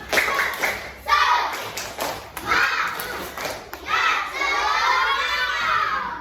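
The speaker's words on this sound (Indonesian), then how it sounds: "yuk kita sama-sama tepuk semangat dulu yuk" Schoolchildren in a classroom shout the rhythmic 'tepuk semangat' clapping chant together. Bursts of loud chanting alternate with claps in a repeating pattern, and the chant ends in a long sustained shout.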